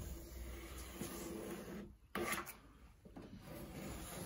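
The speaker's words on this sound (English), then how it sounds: "Then we're going to draw our line." A pencil or marker drawn firmly across a wooden board marked for a soapbox car support gives a close, steady scratching rasp with a short pause midway, then continues.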